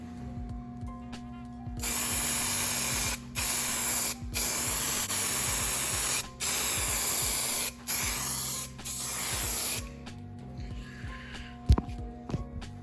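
Primer being spray painted onto Honda Prelude side skirts indoors, with repeated hissing aerosol bursts separated by brief pauses, then quieter mechanical clicks near the end.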